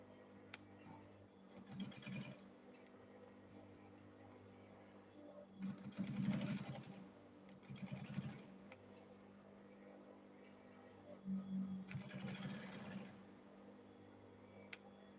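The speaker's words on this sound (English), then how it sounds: "I'll fold this, and I'll go ahead and sew it also." A sewing machine stitching the folded fabric of a lunch bag runs in several short bursts of rapid mechanical whirring, close and fairly quiet, with pauses of low background hum between runs.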